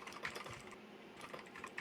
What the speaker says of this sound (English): I can hear Squick typing faster than he can think